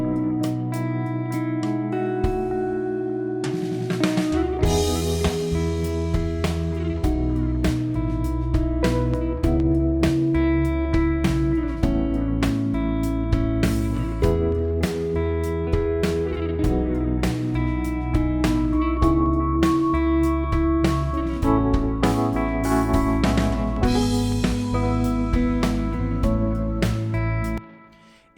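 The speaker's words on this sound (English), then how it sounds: "Listen to how the snare sounds differently with each. I'll start with the plate, and then I'll switch to the room." A full music mix with a snare drum cracking in a steady beat, first through plate reverb and then room reverb, over continuous bass and chords for nearly half a minute.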